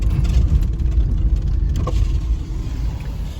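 A vehicle on Firestone all-terrain tires grinds along a very rocky off-road trail, its engine a steady, loud, close rumble with bumps and rattles throughout and no talking.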